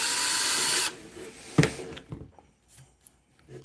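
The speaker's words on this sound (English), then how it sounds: "So the next step for this hole is I think this is an 1/8 inch, like a little drill bit" Small 1/8-inch bit drilling a pilot hole at a pre-marked spot on a hero panel build, a steady high power-drill whine that stops abruptly, followed by scattered handling clicks and taps.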